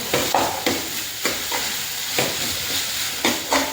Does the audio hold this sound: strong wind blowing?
no